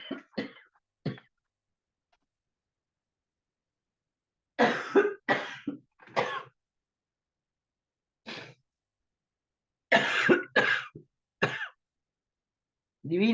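Someone coughs after choking on water: short, dry bursts in separate clusters with silent pauses between, close and fairly quiet.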